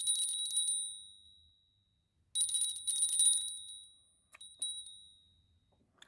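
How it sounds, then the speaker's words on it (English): A small bell rings clearly twice, each strike bright and sustained with a slowly fading ring, followed by a couple of faint tinkles in an otherwise quiet room. "I'm going to ring some bells, clear the air, clear my mind"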